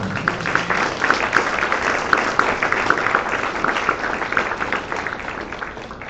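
Church congregation applauding at a Sunday service, a steady, sustained wash of many hands clapping together with no voice above it, tapering slightly toward the end.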